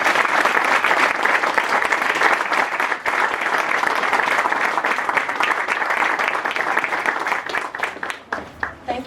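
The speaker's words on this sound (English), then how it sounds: "that announcement deserves another round of applause" An audience applauds after a speech at a Coatesville and SEPTA transit announcement, producing a loud, steady wash of clapping that holds for several seconds before thinning out and fading at the end.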